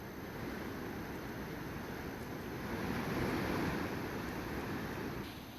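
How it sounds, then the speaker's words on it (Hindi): Floodwater rushes strongly after heavy rain, a continuous broad roaring wash of flowing water that swells slightly midway, heard at a moderate distance with no voices. "छोटे नालों में लगातार पानी बह रहा है"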